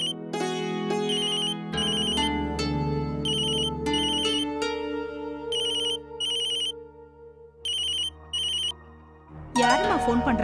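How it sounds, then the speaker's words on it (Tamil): A phone ringtone plays a repeating electronic melody with steady tones and bright chiming bursts, loud and close, within a Tamil TV serial scene, ending as other sounds begin. "யாருமா ஃபோன் பண்றாங்க?"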